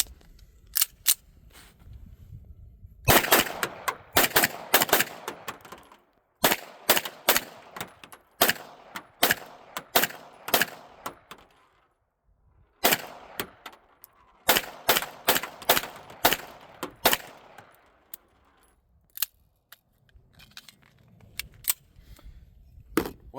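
A Springfield Prodigy 2011 pistol fired through a magazine, sharp close shots in rapid strings of several rounds with brief pauses between groups, each crack loud and echoing outdoors.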